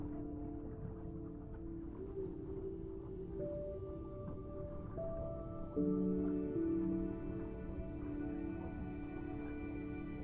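Underwater whale calls in the ocean-diving video game Beyond Blue, long tonal moans and shifting pitched cries layered over a steady deep-water rumble, sustained and moderately loud with no speech.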